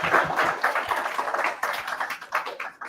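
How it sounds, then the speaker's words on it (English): An audience at a tech talk event applauds its sponsors, a bright, crowded patter of many hands clapping that swells and dips unevenly at moderate distance. "Please give a big applause."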